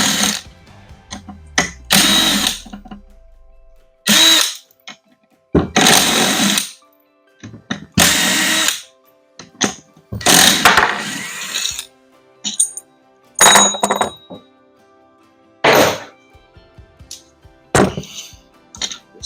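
Bursts of a handheld power tool spinning out 10 mm bolts from a Warrior 350 oil pump, about ten short whirring runs separated by pauses and small metallic clinks, close and fairly loud with no talking.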